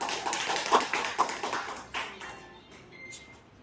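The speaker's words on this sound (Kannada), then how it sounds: "ಥ್ಯಾಂಕ್ ಯು ಅವ್ರಿಗೆ ಜೋರಾಗಿ ಒಂದು ಚಪ್ಪಾಳೆ" A short burst of hand clapping from a small group, brisk at first, then thinning out and fading within a few seconds.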